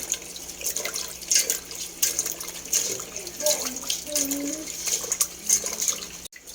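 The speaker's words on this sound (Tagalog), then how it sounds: "Hugasan ko siya." Running water flows steadily while something is washed under the tap, with a few faint handling sounds and speech-like tones mixed in.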